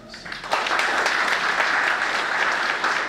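Audience at an awards ceremony in Côte d'Ivoire breaking into applause, a dense, even burst of clapping that swells in after half a second and holds steadily for about three seconds.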